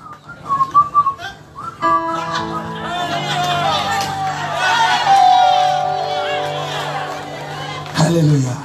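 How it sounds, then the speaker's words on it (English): A church congregation whistles loudly together during worship, many overlapping sustained and sliding whistles filling the room amid crowd noise and voices. "and when we whistle,"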